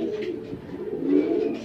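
Racing pigeons coo steadily and close by in a loft at a race arrival, a soft continuous burble of overlapping calls that swells slightly toward the end.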